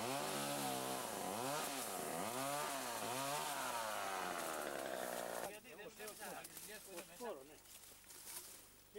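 A saw cuts through wood with a loud, close, revving whine that rises and falls in rhythmic strokes, then turns rougher and quieter, while voices talk over it.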